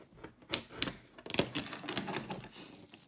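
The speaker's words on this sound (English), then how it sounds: "And these are my sewing scissors." Sewing scissors snip through material during a hand-made box craft project, giving a few sharp, close clicks and crisp cutting bursts in an otherwise quiet room.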